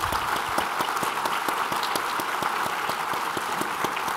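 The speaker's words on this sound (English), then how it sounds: "join me in giving them a round of applause" Steady applause from a small group at a keynote conversation, a continuous patter of clapping hands lasting several seconds at moderate volume.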